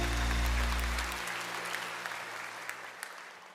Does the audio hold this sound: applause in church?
yes